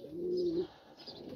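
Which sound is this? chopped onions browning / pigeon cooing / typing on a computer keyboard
pigeon cooing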